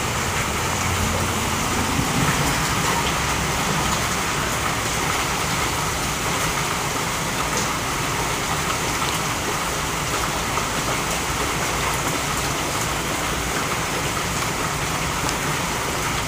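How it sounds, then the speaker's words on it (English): Steady hot summer rain falls in a continuous, even wash of noise, close and moderately loud, with no voices. "I think it's hot rain probably."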